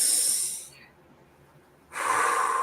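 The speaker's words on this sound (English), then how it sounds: "Take a few deep breaths through your nose and exhale through your mouth." Deep breaths drawn in through the nose and let out through the mouth, two airy hissing exhales close to the microphone separated by a quiet pause.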